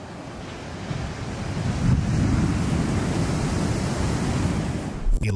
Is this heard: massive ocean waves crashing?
yes